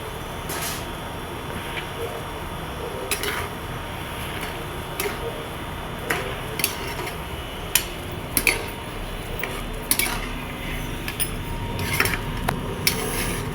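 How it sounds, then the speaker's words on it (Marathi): Tutti frutti pieces are stirred through sugar in a pan, giving a steady bed of low scraping with irregular light clinks and ticks of a utensil against the pan, close and moderately loud, with no talk. "त्यानंतर त्याला पूर्ण आपण हलवून घेऊया साखरेमध्ये।"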